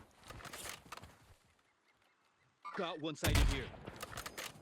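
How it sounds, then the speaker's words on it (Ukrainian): Gunfire in the video game Warzone: short bursts of shots, some distant and some closer, with a louder volley near the end and a quiet gap before it. "Блять, стріляють"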